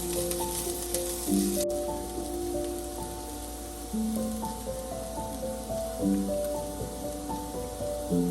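Chopped onions sizzle and fry in a pan, a continuous crackling hiss close to the microphone, with occasional clinks of a utensil stirring and scraping against the pan.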